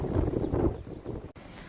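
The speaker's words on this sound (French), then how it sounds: "Parce que là, c'est avec le vent, c'est trop pour moi." Strong wind buffets the microphone at the top of a tower on the Appalachian Trail, a steady rough roar with gusting surges that briefly cuts out, with no talking.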